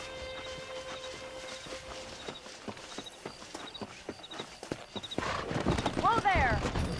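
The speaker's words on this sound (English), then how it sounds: "let's see if we can't wrangle some horses." Horses in Red Dead Redemption 2 clop their hooves in a steady irregular rhythm through an outdoor scene, then near the end a loud, close horse whinnies with rising and falling neighs; faint game music and ambience sit underneath.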